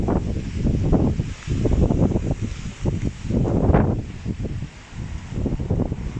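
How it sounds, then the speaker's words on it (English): Gusty wind buffets a handheld phone microphone in rough, rumbling bursts that rise and fall throughout, outdoors in Berlin-Hohenschönhausen, with no voices. "it's quite windy, so I have to hold on to the phone here."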